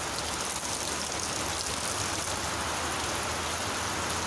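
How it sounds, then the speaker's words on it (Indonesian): Steady rain falling outdoors at a riverside fishing spot, a dense continuous hiss of drops pattering on surfaces, close and even throughout with no voices. "Tunggu hujannya reda"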